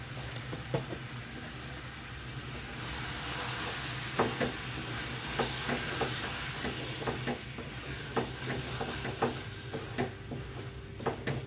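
Curry leaves dropped into hot oil in a home kitchen give a soft, continuous sizzle and hiss, broken by scattered pops and crackles and faint stirring clatter, fairly quiet and with no talk.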